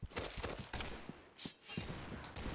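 An Uzi submachine gun fires in the shooter game Point Blank in short rapid bursts of sharp cracks, broken by brief gaps and heard at a moderate, somewhat subdued level.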